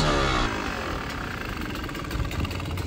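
A 2-stroke dirt bike engine runs close by at a steady, buzzy idle that holds evenly from start to finish.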